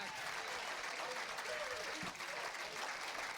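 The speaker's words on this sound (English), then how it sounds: "A nice round of applause there for him" Bowling crowd at a Molson Masters Open tournament applauding a strike, a steady round of clapping at moderate level throughout, with a few murmured voices underneath.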